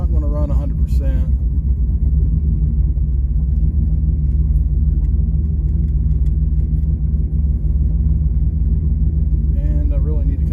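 Cold Ford Explorer engine idling steadily up close, a constant low rumble that runs unbroken from start to finish, with brief higher-pitched noises near the start and end.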